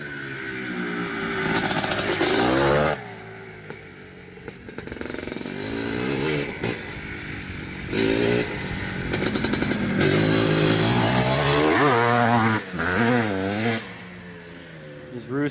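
A 1982 Maico MC250 motorcycle being ridden, its two-stroke engine revving hard and shifting up and down in pitch, with repeated throttle bursts and brief drops, loud and close throughout.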